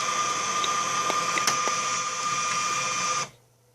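An HP LaserJet Pro 200 color MFP M276nw scans multiple pages, giving a steady mechanical whir with faint clicks that runs evenly and then stops abruptly.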